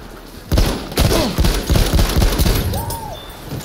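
Weapons fire in a Battlefield match comes in rapid, loud bursts of shots with heavy low thumps and clattering tails, close and repeated over a few seconds, with a voice faintly present.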